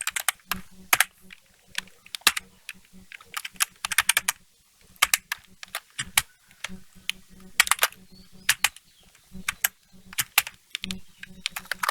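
Rapid bursts of keystrokes on a computer keyboard while VB.NET tic-tac-toe code is written, clicking in quick uneven clusters with short pauses between, close and fairly loud throughout.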